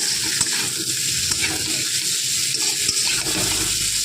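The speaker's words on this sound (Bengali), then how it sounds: "এবার টমেটো কুচিটা ভালো করে এই আলুর সাথে নেড়ে নেব।" Chopped tomato and potatoes are stirred in a frying pan: a continuous close sizzle broken by repeated scraping strokes of a spoon against the pan, with no speech.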